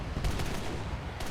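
Aircraft cannon and machine-gun fire from a Ho 229 V3 in War Thunder, a dense rattling burst of shots that runs steadily across the whole stretch.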